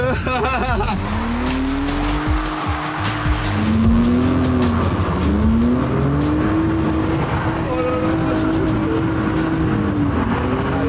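A BMW M3 E36 drifts in a field, its engine revving hard and rising and falling through repeated gear pulls while tires scrub and squeal, loud and close throughout.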